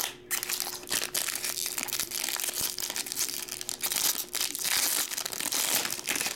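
Topps baseball card packs from a 2022 Series 1 jumbo box being torn open, steady crinkling and tearing of foil wrappers close up, continuous and fairly loud with no talking.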